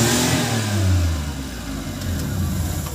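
Maruti Omni van engine starting and revving after its ignition timing was adjusted, a loud close mid-pitched roar that climbs, then settles into a rough idle.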